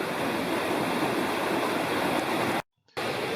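Water rushes steadily along a creek, a dense continuous burble up close, broken by a brief moment of silence near the end.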